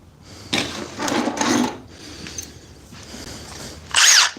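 A DeWalt cordless impact driver runs in short, loud bursts of buzzing, hammering whir, nearby and alone, with brief pauses between the runs.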